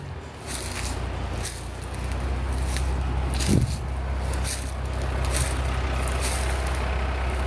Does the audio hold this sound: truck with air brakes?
yes